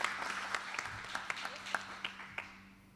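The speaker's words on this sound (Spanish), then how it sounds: "un aplauso para ella." Brief, scattered clapping from an academic audience greeting a journalism faculty dean, with a handful of distinct claps over a low hum, fading out quickly.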